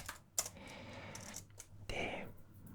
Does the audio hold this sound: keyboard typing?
yes